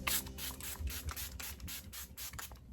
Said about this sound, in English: Now I'm going to use a setting spray.